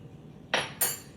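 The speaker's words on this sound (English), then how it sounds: "And we dump in the chocolate chips." Chocolate chips poured into pancake batter in a home kitchen, landing as two quick, bright clattering rushes against the bowl, close and fairly faint, with no voices.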